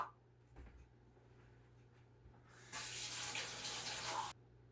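Warm water runs steadily from a tap for under two seconds after a few faint handling noises, close and moderately quiet, then stops.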